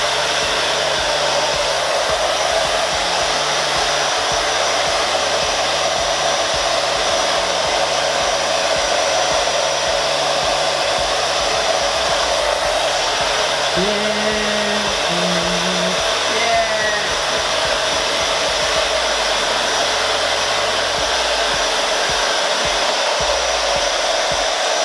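Hair dryer blowing continuously and loudly while drying hair, a steady rushing whir whose pitch and airflow shift slightly as it moves.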